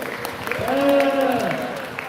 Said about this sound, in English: Let's give a round of applause to the judges.